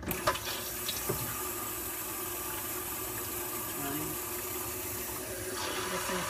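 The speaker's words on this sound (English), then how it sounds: "Okay, turn the hot water on" Hot water runs from a kitchen sink tap in a steady, fairly loud broadband rush lasting throughout, with a few knocks and clanks near the start.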